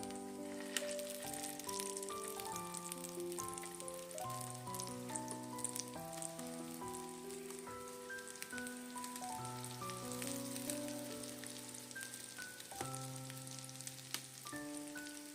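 Thick chive boxes pan-frying in a lightly oiled covered pan give a soft, even sizzle that sits under louder melodic background music throughout.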